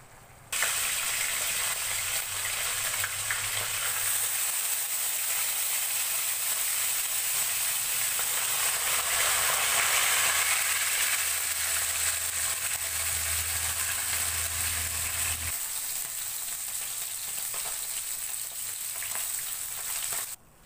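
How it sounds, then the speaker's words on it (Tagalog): Fish fries in a pan for a Filipino home-cooked meal, a steady close hiss and sizzle of hot oil that holds for about twenty seconds, with a low rumble coming and going underneath and no voices. "Next naman natin is magpiprito tayo ng isda."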